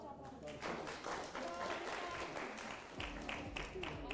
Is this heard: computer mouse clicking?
no